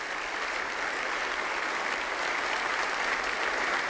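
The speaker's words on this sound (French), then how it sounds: "Applaudissements nourris, la reine Fabiola et la reine Paola font leur entrée." Hearty, sustained applause in the Belgian parliament at the 1993 swearing-in of King Albert II as two queens enter, a dense, even wash of clapping from a large crowd with no break.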